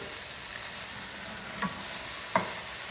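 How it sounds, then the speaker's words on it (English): Vegetables are stir-fried in a hot pan, producing a continuous close-up sizzle with a couple of quick utensil scrapes and taps as they are tossed around. "start stir frying it around. Just keep it stirring for about 5 minutes until they start to get tender."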